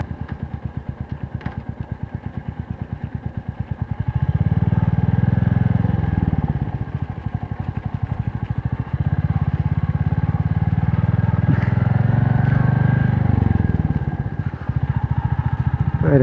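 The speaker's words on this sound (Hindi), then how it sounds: "अरे भाई पहली बार ऐसी रोड पे मैं बाइक चला रहा हूँ" A motorcycle rides along a road near Pathankot, its engine thumping steadily with rhythmic pulses and swelling to louder, rougher revving under acceleration before easing back, close and loud with wind noise.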